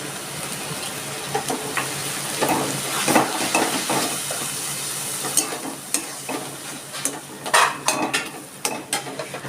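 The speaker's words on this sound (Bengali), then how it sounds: "এখন চিংড়ি মাছটা আমি দিয়ে দিচ্ছি এর মধ্যে" Ground shrimp fries in a pan and is stirred, giving a steady loud sizzle overlaid with frequent scraping strokes and clinks of a spatula against the pan throughout.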